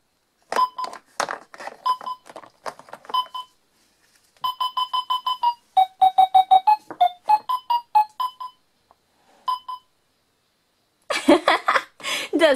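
A Bubble Guppies toy x-ray machine beeps in bursts of quick electronic tones at shifting pitches, with pauses between runs and a harsher buzzing burst at the end.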